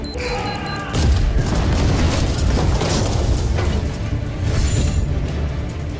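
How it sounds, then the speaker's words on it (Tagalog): A bomb explosion in a dramatic action scene erupts as a sudden loud boom after a short moment of quieter sound, followed by several seconds of sustained rumbling roar with a further surge near the end. "Bomba!"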